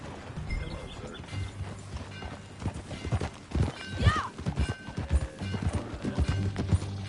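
Rhythmic clip-clop of trotting horse hooves in the video game Red Dead Redemption 2 continues throughout, mixed with light mechanical creaks and a brief whinny partway through.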